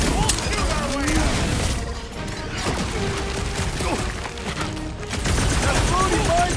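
Gunfire erupts in a shootout aboard a space station in the video game Guardians of the Galaxy, with booming shots and mechanical clatter running continuously under voices and game effects.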